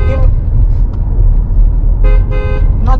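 Car horn honks in a prank, with a couple of short toots and a longer blast over steady, loud road and engine rumble inside a moving car.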